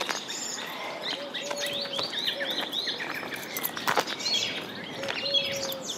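Several small birds chirp and tweet on a village walk outdoors, with short high calls scattered throughout over a steady soft background hiss of wind or distant traffic.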